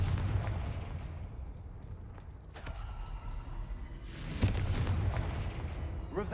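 Confringo blasting spell explosions in the video game Hogwarts Legacy: two sharp booming bursts about two seconds apart, each followed by rumbling debris, set against low ambient game noise.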